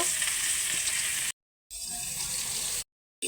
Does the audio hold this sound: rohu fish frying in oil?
yes